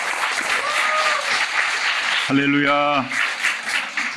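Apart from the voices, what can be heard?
church congregation applause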